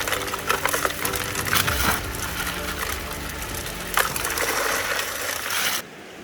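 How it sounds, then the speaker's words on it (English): Pump running on a Mini Monster gold dredge at a river, a steady loud mechanical drone with gritty, crunching and rattling texture throughout, dropping off abruptly at the end. "Right now we're running about 8 degrees on the Mini Monster, and I've got the pump running at about 60"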